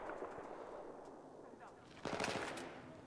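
Sniper gunfire in the video game Starfield, sharp shots bursting out amid a busy game mix, with excited voices shouting over the action.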